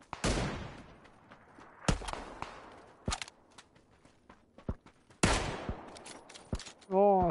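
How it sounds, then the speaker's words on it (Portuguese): Gunfire in an online shooter video game, scattered sharp shots and short bursts at varying distances, with footsteps in between and a voice at the end. "Tá atirando, é outro time que tá atirando lá de baixo."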